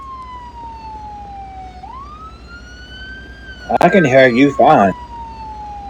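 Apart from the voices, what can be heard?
siren of an emergency vehicle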